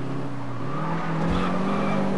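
A car in Test Drive Unlimited drives steadily with a loud, continuous engine drone that rises in pitch as it accelerates, with faint tire noise and no talking.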